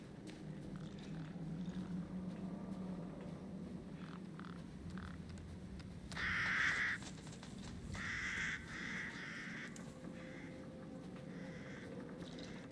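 Several harsh crow caws in Resident Evil Village ring out in short bunches over a low, steady ambient drone, moderately close but fairly quiet.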